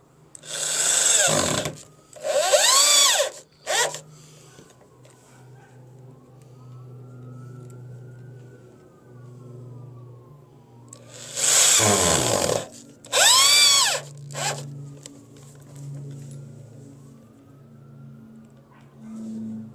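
A power drill driving screws into Trex composite decking during a re-deck job, with loud whirring bursts that rise and fall in pitch, two close together near the start and two more later, separated by quieter stretches.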